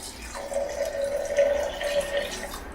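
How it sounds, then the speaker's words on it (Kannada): Water poured into a small glass in a home kitchen, a steady trickling stream lasting about two seconds with a thin ringing tone, close and fairly quiet, no talking. "ಇದೊಂದು ಚಿಕ್ಕ ಗ್ಲಾಸಲ್ಲಿ ನೀರು ಹಾಕ್ಕೊಳ್ತಾ ಇದ್ದೀನಿ."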